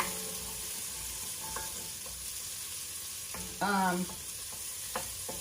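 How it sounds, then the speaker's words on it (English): Salt pork frying in a pan gives a steady, close sizzle and crackle throughout, with a brief voice speaking partway through. "So I'm cooking that salt pork."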